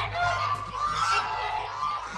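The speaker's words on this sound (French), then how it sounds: "Des oies? Eh oui, quand elles crient, on les entend dans tout Ponyville." Cartoon geese from a My Little Pony episode honk loudly and continuously, a nasal, close-up chorus of overlapping calls over a low background hum.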